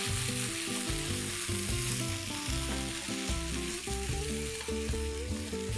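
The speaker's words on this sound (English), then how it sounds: "allow this to saute on medium to high flame for 2 to 3 minutes" Grated corn sautés in a pan over medium to high flame, giving a continuous loud sizzle and frying crackle throughout, with steady tonal hum beneath and no talking.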